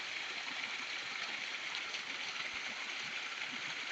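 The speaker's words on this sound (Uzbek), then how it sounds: "Mana bu sharsharani qaranglar." A waterfall in the Nurota mountains gives a steady broadband rush of falling water, continuous and even throughout, heard from a moderate distance.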